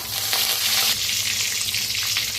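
Cumin, asafoetida and curry leaves frying in a hot tempering for sambar make a continuous loud hissing sizzle, close and even throughout, with no voices.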